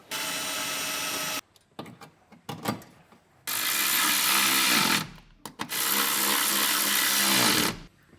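Ratchet work bolting a B&M shifter bracket to the firewall of a Holden Kingswood during a 304 V8 swap: two long, loud, steady runs of dense mechanical clicking separated by a pause of scattered clanks, close up with no talk.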